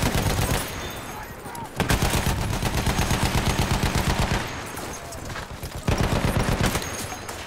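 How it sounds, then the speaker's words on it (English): An enemy machine gun in Battlefield 1 hammers out long, loud bursts of rapid fire, with brief pauses between runs of shots and a dense battlefield din underneath. "There's an enemy machine gun!"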